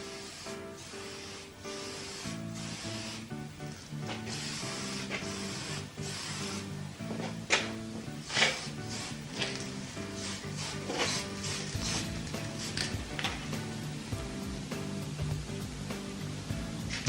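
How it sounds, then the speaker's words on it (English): A spray gun hisses steadily as paint goes onto car bodywork in quick side-to-side passes. The spray is faint and continuous, with music playing underneath. "The secret with spraying is a quick side-to-side movement."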